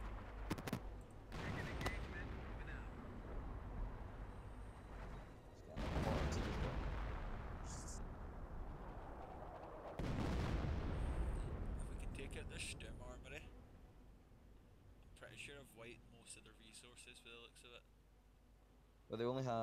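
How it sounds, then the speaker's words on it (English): Mortar and artillery fire in the World War II strategy video game Company of Heroes, heavy booming blasts and rumbling impacts repeating across the clip amid battle noise, with a voice talking over parts of it. "My mortars are fucking them up as well."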